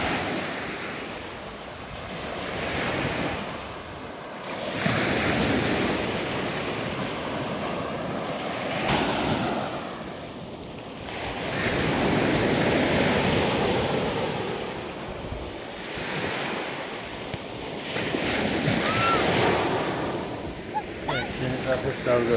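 Gentle Black Sea waves wash onto a sandy beach at Sinop, surging and receding in slow swells every few seconds, close and steady, with wind rushing across the microphone.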